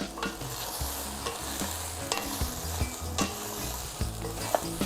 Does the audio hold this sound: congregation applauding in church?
no